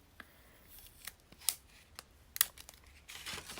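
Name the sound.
adhesive tape being applied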